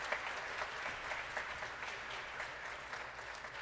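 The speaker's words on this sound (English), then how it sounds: "Please give them a round of applause." Steady applause from a jazz band concert audience, a dense, even wash of clapping that carries on without pause for several seconds, heard at a moderate distance with no voices over it.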